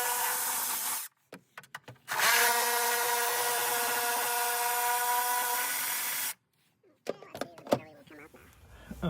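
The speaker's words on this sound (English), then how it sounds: "these bolts are actually holding the battery down" Power tool spinning out long, tight coarse-thread bolts that hold down the battery of a 2024 EZGO RXV Elite golf cart, with a long steady whir between short bursts and clicks, close up.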